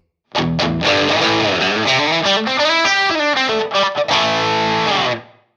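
Electric guitar played through a 1979 Boss OD-1 overdrive pedal, loud, distorted sustained chords and bends with rich harmonics, ringing out alone before a quick fade.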